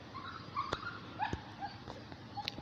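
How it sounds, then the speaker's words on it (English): A dog whimpers with faint, high thin whines scattered through a steady background hiss, with soft clicks and knocks mixed in, heard in a room during a basketball game session. "Y'all might hear my dog."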